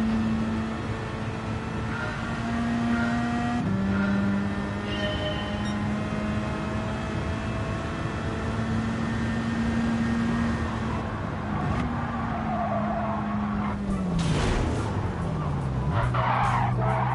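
A race car in the Gran Turismo 7 video game, driven with a Fanatec GT DD Pro wheel, revs steadily with engine pitch shifting through gears, ending in tire skids and squeals, loud throughout.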